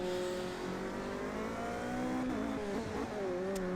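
A hybrid race car's engine accelerates at Silverstone GP in an endurance-league racing video game, its steady, loud drone climbing in pitch with harmonics that bend and dip briefly mid-run, no voices present.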